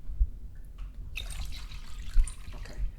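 Water splashes and trickles from a cup into a bowl of soy sauce and sugar for bulgogi marinade, a close, bright liquid pour with a few soft thumps, and no voices.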